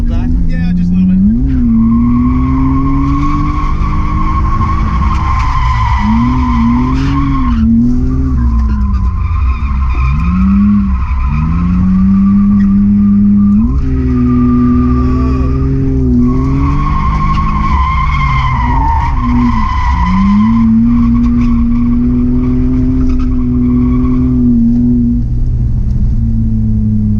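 An underpowered drift car slides hard with loud, sustained tire squeal over a straining engine. The skidding whine rises and falls in long sweeps and stays constant and close throughout.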